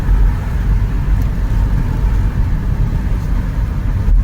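A car drives through Durham heading up toward Gilesgate Bank, its engine a steady close rumble with road noise throughout, no talk over it.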